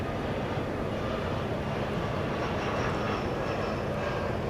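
A Boeing 777 airliner taxis at night across the west side of DFW Airport toward the American Airlines hangar, a steady broadband engine rumble and hiss holding level throughout with no talk.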